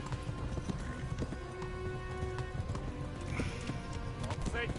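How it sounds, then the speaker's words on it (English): A horse gallops with rapid rhythmic hoofbeats in Kingdom Come: Deliverance, neighing and whinnying near the end over game music and ambience, fairly quiet overall. "Horse is upset because I'm making him run too hard."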